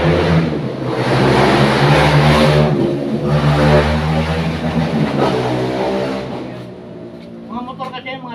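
A noisy motorcycle engine revs hard and close, rising and falling in loud waves for several seconds before easing off, with a voice briefly audible at the end.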